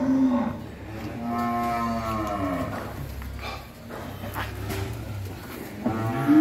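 Cattle at a cow farm in Vinh Long moo repeatedly, several long, loud, drawn-out calls from different animals overlapping nearby, with steady farmyard background noise between them.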